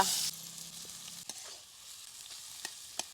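Finely chopped onion fries in oil in a kadhai over a wood-fired chulha, giving a soft, steady sizzle with scattered clicks and a louder burst at the very start.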